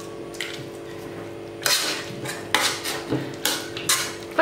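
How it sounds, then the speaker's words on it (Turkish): Boiled, drained potatoes mashed in a pan, giving repeated irregular clanks and soft squishy presses against the metal, close and moderately loud, with no talking. "Şöyle güzelce patates ezeceğim."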